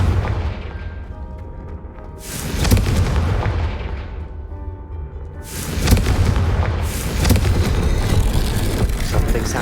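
Fiery blast spells explode in Hogwarts Legacy, booming bursts that roll into crackling rumble, two big waves of loud close explosions over a continuous rumbling game soundscape.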